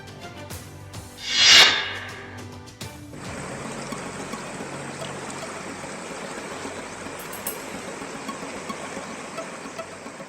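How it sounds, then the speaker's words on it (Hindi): Muddy floodwater after heavy rain rushes steadily through the Sapotra police station in Karauli, a continuous broad roar of flowing water that follows a brief sharp sound near the start. "थाने के बाहर से लेकर अंदर तक नदी ही बह रही है।"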